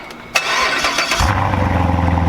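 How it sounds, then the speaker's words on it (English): A Chevrolet Corvette C7 Stingray on its stock exhaust cranks, fires with a sharp burst, then settles into a deep, steady, throbbing rumble close by. "Okay, so everybody knows the C7, but we gotta give you a before rev."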